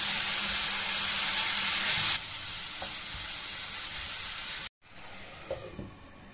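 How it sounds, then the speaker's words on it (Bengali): Ground spice masala fries with a little water in a pan for a fish curry, giving a loud, steady sizzle and hiss that drops in level partway through, cuts out briefly, then returns quieter with light stirring scrapes. "এবার আমি সামান্য একটু জল দিয়ে মশলাটাকে ভালোভাবে কষিয়ে নেব।"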